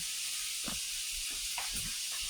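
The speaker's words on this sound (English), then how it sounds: "getting back to our ground beef as it's browning" Ground beef browning in a pan for tater tot casserole, a steady close sizzle and hiss running throughout with a few soft low clinks or stirring knocks.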